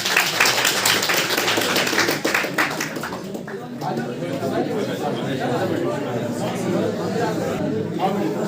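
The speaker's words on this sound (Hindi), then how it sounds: "जोरदार तालियों के साथ" A crowd gives loud, rapid applause and clapping at a college Wildlife Week award ceremony in Bhaderwah for about three seconds, then it fades into crowd chatter and talking.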